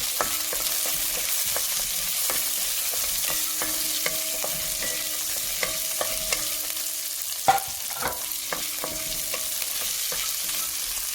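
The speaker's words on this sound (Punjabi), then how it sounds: "ਤੇ ਨਾਲੇ ਆਪਾਂ ਕਾਜੂ ਪਾ ਦੇਣੇ ਹੁਣ ਕਾਜੂ ਪਾ ਕੇ" Cashews fry in a pan for restaurant-style shahi paneer, a soft steady sizzle under repeated scraping and tapping of a stirring spoon, with a sharper knock midway.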